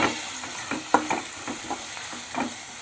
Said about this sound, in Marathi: आणि असे हलवून घ्यायचे.